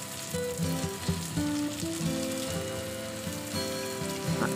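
Chopped onions and tomatoes frying in a pan, a dense crackling sizzle like light rain that runs continuously, close up, with a few clinks of stirring and a tonal hum beneath.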